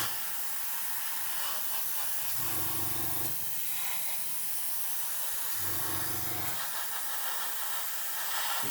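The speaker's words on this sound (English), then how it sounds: "I'm going to use the airbrush just to try and speed things up a bit." An airbrush sprays air over freshly painted model woodgrain to speed drying, a steady close hiss throughout with two brief lower-pitched surges partway through.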